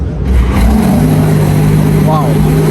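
A Porsche 918 RSR engine revs loud and close, a deep throaty roar rising and holding steady, with a brief sharper pitch sweep near the end; people talk faintly underneath.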